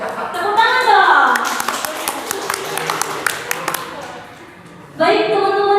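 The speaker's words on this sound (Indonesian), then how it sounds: "Tepuk tangan dong." Audience members at a university library book club gathering clap to welcome guests, a scattered run of hand claps in the middle. A voice speaks before the claps and again after them.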